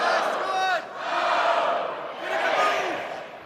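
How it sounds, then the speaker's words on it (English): Crowd inside the Covelli Center at a college wrestling dual, Virginia Tech versus Ohio State, swelling in loud waves of shouting and cheering, with a brief dip before rising again and fading slightly at the end. "Great crowd here inside the Covelli Center"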